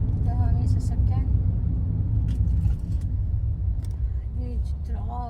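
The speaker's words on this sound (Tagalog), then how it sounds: "Huge traffic." Dense road traffic rumbles steadily around a car on a busy street, a constant low engine drone with a few passing vehicles, heard from inside the cabin while a person talks over it.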